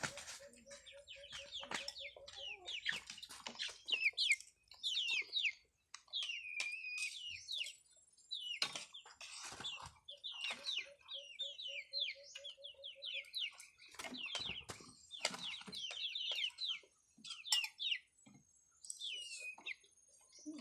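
Chickens cluck and chatter in quick, scattered calls at moderate distance, with bursts of squawking and rustling throughout.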